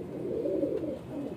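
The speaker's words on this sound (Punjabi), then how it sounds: "ਇਹ ਚਿੱਟੇ ਕਬੂਤਰ ਦੇ ਬੱਚੇ" Young white pigeon chicks in a breeder's loft give soft, low murmuring coos and rustles, faint and continuous at close range.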